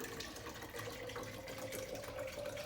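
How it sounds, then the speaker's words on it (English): Water pours steadily into recycled plastic bottles, a continuous close, rushing splash with no pauses throughout. "And then what I'm gonna do is fill up these bottles."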